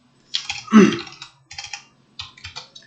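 Someone types on a computer keyboard, close up, in irregular clusters of quick key clicks separated by short pauses.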